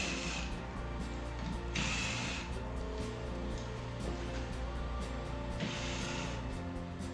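A hand ratchet clicks in short bursts while Torx T30 bolts come out of the underbody of a 2022-2024 Ford Maverick Hybrid during an oil change, with pauses between the bursts.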